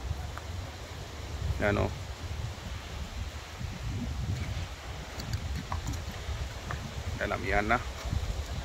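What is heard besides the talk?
strong amihan wind blowing on the shore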